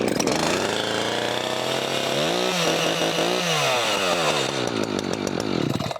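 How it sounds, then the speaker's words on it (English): A chainsaw engine runs loudly and continuously up close, its pitch dipping briefly then revving back up. "once the saw is started"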